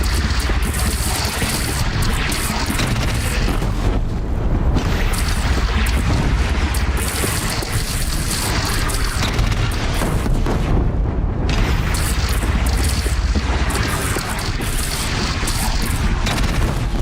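Cannon blasts and explosions during a battle in Horizon Zero Dawn, a dense run of loud booms and rumbling detonations filling about seventeen seconds, with brief lulls between heavy volleys.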